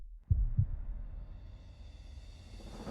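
Heartbeat in an advertisement: two deep, close thumps in quick succession, then a lingering low rumble and swelling tonal music pad, with no voices.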